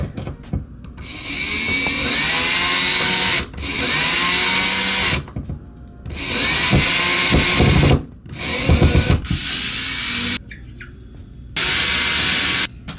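A power drill whirs in several bursts of a few seconds each, separated by brief pauses, drilling holes for wall anchors, loud and close.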